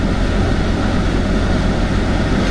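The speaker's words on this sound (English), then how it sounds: "You can hear my AC just fighting for its life right now." A car's air conditioning runs hard during extreme Arizona heat, giving a steady, loud broadband blowing roar with no pauses.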